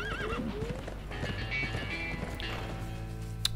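In a cutscene from the video game The Escapists 2, set on a railroad prison escape, a horse whinnies and gallops with rapid hoofbeats over game music and effects, loud and close.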